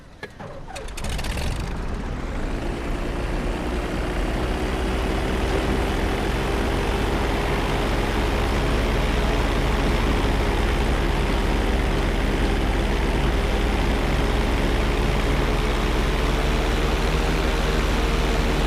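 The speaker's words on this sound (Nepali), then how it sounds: "मक्खन उडाइन्छ नि हेलिकप्टर" A military helicopter in GTA 5 drones with a loud, steady engine and rotor hum that builds within the first couple of seconds and holds constant throughout.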